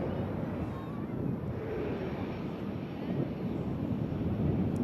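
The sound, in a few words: Airbus A330 airliner climbing after takeoff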